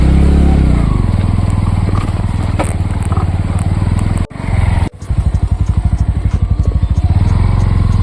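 A motorbike climbs a rough, rocky trail toward Makudi waterfalls, its engine close and loud with a throbbing, uneven rumble. Two brief dropouts are followed by rapid pulsing bursts as the rider works the throttle over the rocks.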